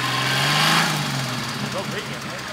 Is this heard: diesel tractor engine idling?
yes